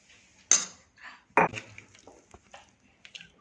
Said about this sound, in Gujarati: હવે આ જારમાં આપણે ભરી લઈશું.